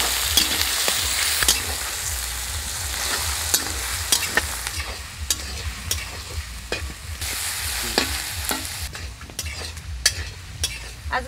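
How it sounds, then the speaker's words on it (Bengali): Garlic and onions fry in a large wok (kadai) with a big batch of mutton, sizzling steadily throughout with repeated stirring scrapes and clinks of a spatula against the metal. "এখন ভেজে নেব রসুন আর পেঁয়াজগুলোকে"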